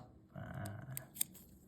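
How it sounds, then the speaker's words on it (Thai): Scissors make a brief, quiet snip as they cut through material at close range, with a short rustle and one sharp click. "ผมได้ทำการตัด"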